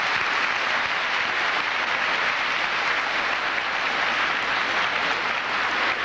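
Audience applause closing an academic conference session, a broad, steady rush of clapping from a seated crowd, continuous and even throughout, heard without talk.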